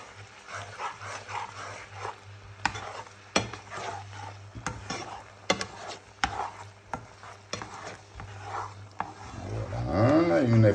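Cream sauce with vegetables, salt and nutmeg being stirred in a pan, soft scraping and clinks of a spoon against the metal under a low steady hum, with a voice speaking at the end.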